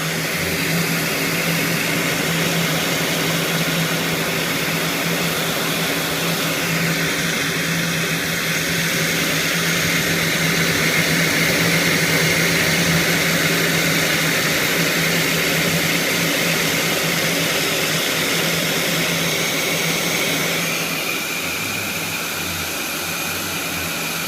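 An engine fitted with a new wiring harness runs at a steady, loud, continuous drone for the whole stretch, with no speech.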